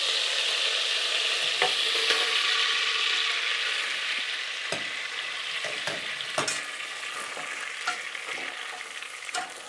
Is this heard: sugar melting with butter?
yes